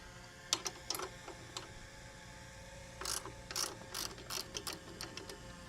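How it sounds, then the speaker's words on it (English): A ratchet wrench turns bolts on a Webb roller, giving sharp clicking bursts in short clusters, close and clear against a quiet background. "Got my trusty wrench."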